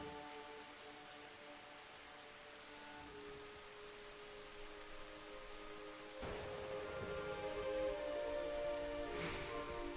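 Steady rain falls in the Final Fantasy XIV game world, a constant soft wash of drops that grows slightly louder and denser partway through, with a faint musical tone and no talking.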